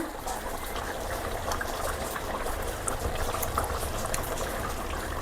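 Thick chicken curry gravy bubbles and sputters steadily in a pan, a dense continuous simmering with small pops, close and fairly quiet.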